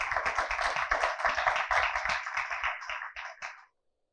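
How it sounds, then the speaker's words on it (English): An audience at a school debate round claps for several seconds, dense and fairly close, thinning to a few scattered claps before stopping abruptly. "we would like you to give both teams a round of applause"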